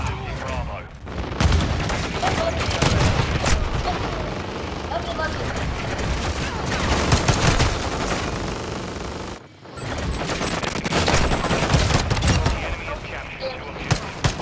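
Constant automatic gunfire and explosions from a Call of Duty match on a small chaotic map, with a juggernaut in play, filling the whole clip in dense bursts, with a brief break near the middle, as players talk over it.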